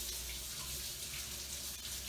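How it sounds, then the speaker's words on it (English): Steady tap water runs into a kitchen sink as a delicata squash is washed, a continuous broadband hiss and splash at a constant level with no talking. "So let's take it to the sink and give it a good wash"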